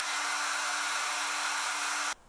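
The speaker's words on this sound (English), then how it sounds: "I'm going to speed up this process with a hairdryer." Hair dryer blowing to dry Elmer's glue stick on eyebrows, a steady loud whooshing hum with a constant tone that cuts off abruptly near the end.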